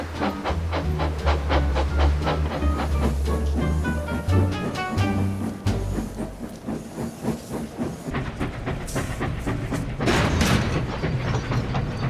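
A steam engine train running, rhythmic chuffing and hissing steam with a low mechanical rumble, followed by louder bursts of hiss near the end, no talk.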